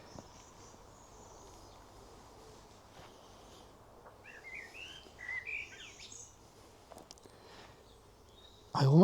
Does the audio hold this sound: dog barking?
no